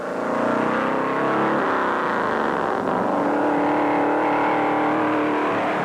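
A 1957 Mercury NASCAR convertible race car accelerates along the sand at Daytona Beach, its engine a loud, continuous roar climbing in pitch with a steady hum of wind and other engines.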